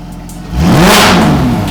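With its Fi exhaust valves open, a Porsche GT3 engine revs once in a short, sharp, loud bark that rises quickly and hangs briefly, heard up close.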